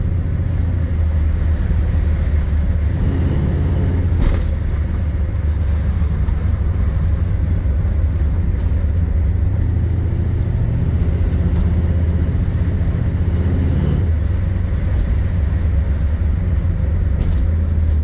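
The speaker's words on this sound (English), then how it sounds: "we're going on a quick test drive here." A 1969 Chevrolet Camaro engine rumbles steadily from inside the car while driving, a loud continuous low drone with slight shifts in pitch and occasional thumps.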